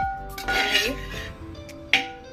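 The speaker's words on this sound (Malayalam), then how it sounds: "കൈ എടുക്കാതെ ഇളക്കിക്കൊണ്ടിരിക്കണം" Coconut rice powder is stirred as it roasts in a pan, a spoon scraping and clinking against the metal in close, uneven strokes with a sharp knock near the end, while someone talks over it.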